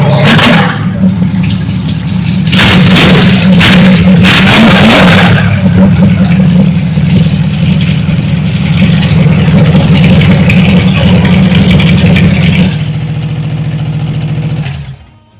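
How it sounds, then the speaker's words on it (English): A Hemi-powered, alcohol-fueled funny car called Country Girl roars loud and close at a drag racing old timers' reunion, with sharp throttle blips over a rough, steady idle that runs on before cutting off near the end. "This is an alcohol-fueled funny car called the Country Girl. And that's a Hemi."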